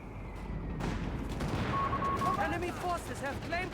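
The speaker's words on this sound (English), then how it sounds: "Got those mortar half-tracks firing away there at Stephenn" Mortar half-tracks fire in the Company of Heroes 3 video game, a few thumping shots and explosions over battle noise while a commentator talks over the action.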